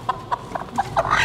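Chickens cluck in short, separate bursts inside a poultry barn, about six close calls over a faint background.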